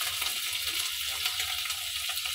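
Ginger paste stirred and fried in a pan, a soft, fairly quiet sizzle with faint scraping of the spoon against the pan over a couple of seconds.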